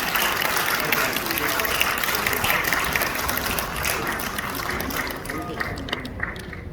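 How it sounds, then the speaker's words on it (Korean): Vigorous audience applause at a church thanksgiving ceremony in Gwanghwamun, Seoul, a dense, loud roar of many hands clapping that stays strong for several seconds and then tapers slightly toward the end. "손바닥이 아프도록 힘차게 박수를 쳐주세요."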